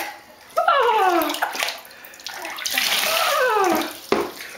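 Water runs and splashes into a bathtub at close range in a steady rush, with a voice and chatter mixed in and a brief splash near the end.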